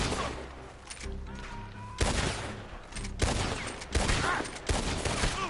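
Repeated gunshots in the Red Dead Redemption 2 online video game on PS4, several loud bursts spaced a second or so apart over a busy game soundscape.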